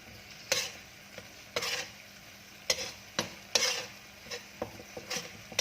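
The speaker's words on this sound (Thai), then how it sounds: "ผัดให้เข้าเหนียวเหนียว" Tamarind three-flavour sauce for fish being stir-fried in a pan, with repeated scraping strokes and short bursts of sizzle coming in an uneven rhythm, fairly close and moderately loud, no voices.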